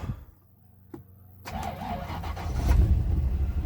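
A Rolls-Royce Silver Shadow cranks and starts near the microphone, the starter catching at about one and a half seconds before the engine settles into a loud, building idle rumble.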